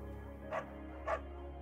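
A beagle named Bucket barks twice in the video game Firewatch, two short, fairly faint woofs about half a second apart over a low steady hum.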